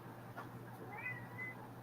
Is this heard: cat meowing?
yes